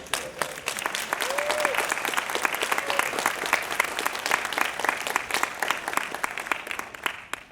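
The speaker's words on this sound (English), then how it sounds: "Give them a round of applause" Audience applause fills a PAX 2016 gaming panel hall, steady dense clapping from a crowd at moderate distance, with a few voices and a brief whoop mixed in before it tapers off.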